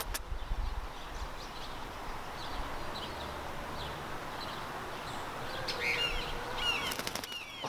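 A harnessed Senegal parrot flies outdoors at a park, its soft wingbeats fluttering faintly over steady wind and outdoor background noise, with a brief chirp near the end.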